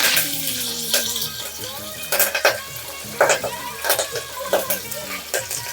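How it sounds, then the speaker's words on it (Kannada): Curry leaves, mustard seeds and cumin sizzle in hot oil in a pan, a steady close crackling hiss broken by scraping strokes of a stirring spoon, with no talk. "ಅದಕ್ಕೆ ನಾನು ಸ್ವಲ್ಪ ಸಣ್ಣಕ್ಕೆ ಕಟ್ ಮಾಡಿ ಹಾಕ್ತಾ ಇದ್ದೀನಿ ಕರಿಬೇವು"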